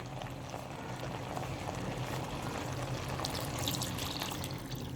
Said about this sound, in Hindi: अब इसके अंदर मैं थोड़ा सा पानी ऐड कर दूंगी।